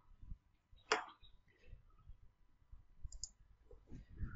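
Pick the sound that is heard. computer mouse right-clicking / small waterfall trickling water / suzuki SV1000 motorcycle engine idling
computer mouse right-clicking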